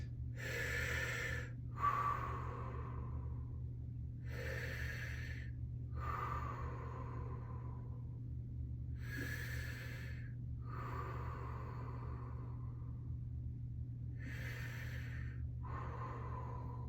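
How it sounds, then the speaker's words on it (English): Deep, slow breaths during a guided yoga-style class exercise, each long breathy inhale and exhale repeating about every two to three seconds, close and clear over a steady low hum, with no talking. "we're going to take 6 more breaths"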